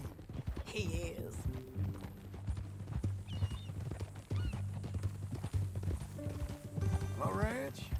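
Horse hooves clip-clop steadily through a Red Dead Redemption scene with an occasional whinny, under continuous character dialogue and a low musical drone.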